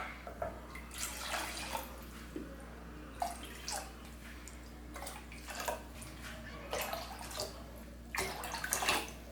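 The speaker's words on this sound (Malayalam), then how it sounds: "ഞാനിപ്പോൾ ഇതിലേക്കൊരു 7 കപ്പ് വെള്ളമാണ് ഒഴിച്ചു കൊടുക്കണത്" Water poured into a pot to boil nannari (Indian sarsaparilla) root for syrup, a splashing, gurgling pour in several bursts at close range with short pauses between.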